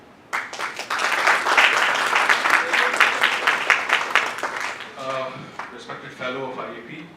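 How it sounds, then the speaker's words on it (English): A round of applause at an architecture book launch, loud crisp clapping from a crowd that swells quickly and then thins into scattered claps as a voice resumes over the room's echo. "A round of applause for them."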